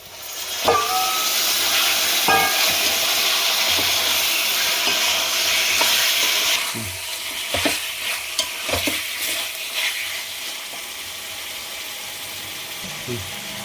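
Chicken hitting fried ginger paste in a hot pan, a loud broad hiss and sizzle that holds for several seconds, then eases off into scattered stirring clanks and scrapes, close up with no talking.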